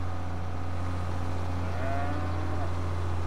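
Cattle moo on an Ohio farm map in Farming Simulator 22: a drawn-out, rising moo sounds over a loud, steady low machine hum that runs throughout.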